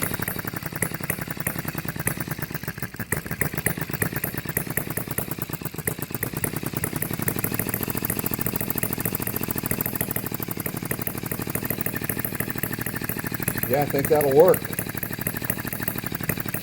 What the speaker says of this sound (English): let me crank it up one last time now that I kind of throttled it down a little bit